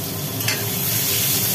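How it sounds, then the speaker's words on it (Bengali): Cut potatoes frying in hot oil after fish has been fried, giving a steady, dense sizzle that stays close and even throughout, with no talking. "আলুগুলোকে একটু ভাজি করা হবে"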